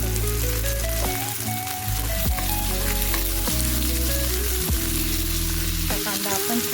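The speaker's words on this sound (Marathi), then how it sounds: "कांदा, कढीपत्ता आणि हिरवी मिरची सोबतच टाकून देते।" Onion, curry leaves and green chili sizzle and fry steadily in a pan, with a constant close crackle; no one speaks.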